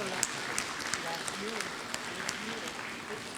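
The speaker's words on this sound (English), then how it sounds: "Let's give her a big round of applause" A crowd gives applause for glass artist Catherine Labonté at a guest glassblowing demonstration, light scattered clapping with a few sharp claps, fairly faint and partly under talk.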